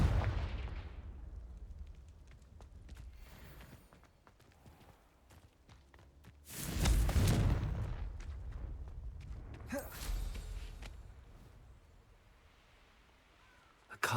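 The Confringo spell in Hogwarts Legacy bursts as a loud explosive blast midway, followed by a second, lighter burst, set among quieter game footsteps and ambient sounds.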